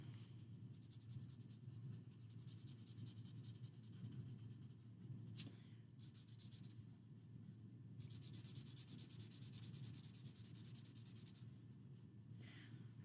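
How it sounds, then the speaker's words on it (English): A blending stump rubs over a graphite pencil drawing on paper in a steady, faint, close scraping hiss that comes in long strokes with brief pauses. "I'm going to go over here and smooth this out. Smoothing it out. Getting rid of my pencil lines."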